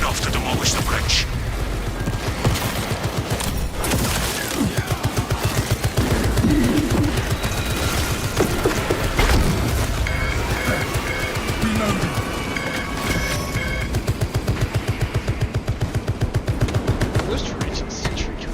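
Sentry turrets firing in a Warhammer 40K video game, a rapid, steady machine-gun chatter running throughout, loud and continuous, mixed with battle noise and game effects.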